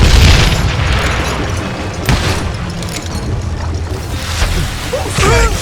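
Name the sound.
thrown dynamite exploding in video game Call of Juarez: Gunslinger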